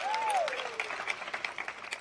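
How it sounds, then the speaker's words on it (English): School Founder's Day audience claps for board members: a dense burst of applause that thins into scattered individual claps, while a voice calls out briefly over it at the start. "Yes, we can give them a round of applause."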